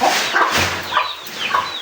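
Desi hens cluck repeatedly in a farmyard, several short calls from birds nearby over a steady outdoor background hiss, with no talking.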